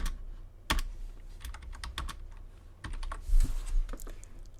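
Keys clacking on a computer keyboard while lyrics are entered into Sibelius notation software, a close, irregular run of sharp taps with a few louder strokes, no voices.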